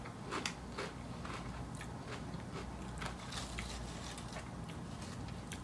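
Lay's Sweet Chili Heat potato chips are bitten and chewed up close, with sharp, repeated crunches at an irregular pace over a quiet background and no talking.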